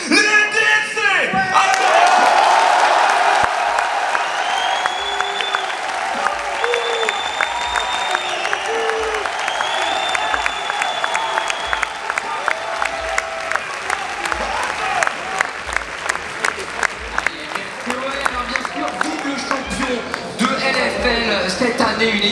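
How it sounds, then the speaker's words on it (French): An arena crowd at an esports event greets the LDLC OL team, with a loud cheer swelling early and then sustained applause and whoops carrying on, while an announcer's amplified voice talks over it. "Un tonnerre d'applaudissements s'il vous plaît pour accueillir les LDLC."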